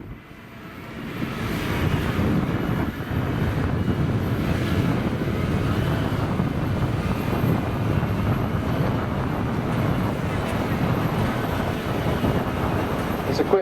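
A JCB loader's diesel engine at a silage clamp demonstration at Grassland 2018, rising quickly to a loud, steady outdoor roar that holds for more than ten seconds, with a voice talking over it.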